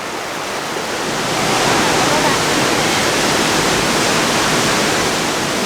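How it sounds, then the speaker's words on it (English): A small waterfall pours into a dark, cool rock cleft in a canyon, producing a loud, steady rushing roar that swells slightly and then holds constant, close by. "This is a wild little waterfall."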